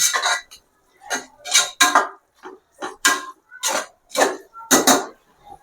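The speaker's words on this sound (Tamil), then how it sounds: "உப்பு போட்டு நல்லா கிளறி விட்டுட்டு" A spoon stirs salt into a pot of vegetable samba wheat porridge, producing a regular series of distinct, loud clanks and scrapes against the pot, about ten close strokes separated by brief pauses.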